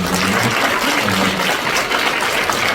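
A church congregation applauding a 27-member short-term mission team, a dense, steady wash of clapping throughout without pause.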